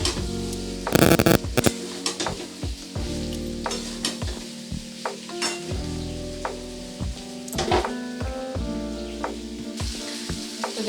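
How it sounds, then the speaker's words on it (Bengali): Papaya cooking with cumin paste and spices fries in a pan, a continuous close sizzle punctuated by repeated clinks and scrapes of a spoon stirring against the metal, plus one louder clatter near the start. "জিরে বাটাটা দিয়ে আবারও একবার ভালো করে"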